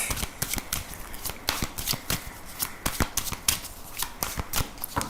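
Tarot cards shuffled by hand before the cut, a rapid run of crisp riffling snaps and flicks repeating steadily throughout, close and fairly loud with no talking.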